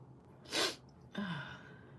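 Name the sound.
sneeze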